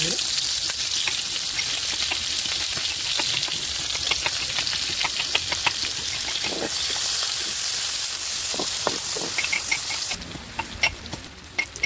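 Onion frying in oil in a kadai for a home recipe, a steady loud sizzle with scattered crackles and pops throughout, some stirring clinks, and a brief drop in hiss near the end.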